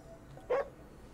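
A dog in the video game Ghostwire: Tokyo gives a single short, soft bark or yip, brief and faint against a quiet background.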